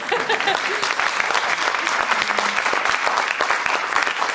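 Steady, full applause from an assembled crowd marking a centennial for an ROTC program, continuous and fairly loud with a faint murmur of voices beneath.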